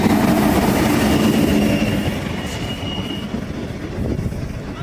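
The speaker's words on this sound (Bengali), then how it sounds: "ট্রেন ঢুকে গেল দেখতে পাচ্ছ" A train arriving at Mahipal station rumbles steadily nearby with a faint metallic squeal, the heavy noise easing slightly as it slows.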